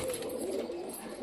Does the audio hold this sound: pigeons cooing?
yes